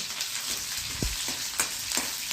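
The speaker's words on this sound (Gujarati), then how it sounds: "ડુંગળી વઘારમાં મૂકી છે" Continuous bright sizzling of onion with dried and green chillies and curry leaves frying in hot oil for tempering, with a few soft stirring clicks and pops, close and steady.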